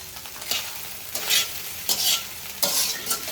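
Chicken fried rice is stir-fried over high flame, sizzling steadily, with repeated scraping and tossing strokes of a spatula in a wok about every second.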